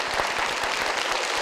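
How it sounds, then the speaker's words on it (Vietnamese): Studio audience on a Vietnamese TV game show breaks into dense, continuous applause, loud and close, filling the room briefly. "Chúng ta cùng dành một tràng vỗ tay"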